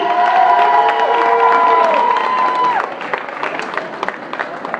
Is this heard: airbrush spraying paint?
no